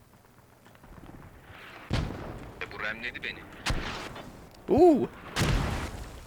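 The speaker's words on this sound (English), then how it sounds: "They got spooked when that mortar landed right in between them." A mortar shell bursts in the military shooter game Squad, a sharp, loud blast among several booming gunfire and artillery impacts, with a short exclamation from a voice.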